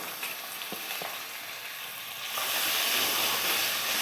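Onion paste hits a pan of fried ginger, garlic and slit green chillies for an egg curry, a few light taps giving way to a sudden louder, sustained hissing sizzle, with no voices.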